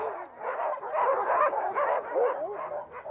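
Sled dogs bark and yip continuously in a close, loud chorus of overlapping barks and whimpers with no pauses, heard without talk.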